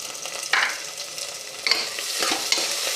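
Finely chopped tomato added to fried onion and sautéed in a pan for masoor dal rice, a soft sizzle broken by a few bright spatula scrapes and stirring strokes, close and alone without talk.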